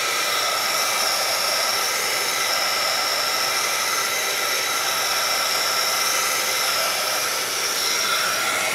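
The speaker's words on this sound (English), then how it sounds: "we're going to get down the embossing tool, and let's give everything a dry" A handheld embossing heat tool blows a steady, loud whirring roar as it dries craft tags, holding an even hiss from start to finish with no talk.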